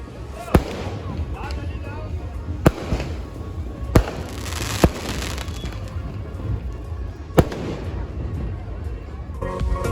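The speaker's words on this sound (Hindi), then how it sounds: "फिर मैं देखता हूँ ऊपर पटाखा फूट रहा है" Firecrackers burst overhead at a wedding in sharp, loud cracks scattered across the recording, over a busy crowd murmur and distant rumbling booms.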